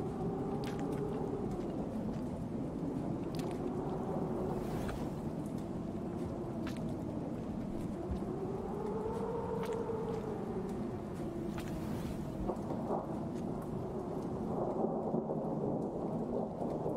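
Rain World video game storm: steady heavy rain hiss with low rolling thunder rumbles that swell and fade, continuous and enveloping, no voices.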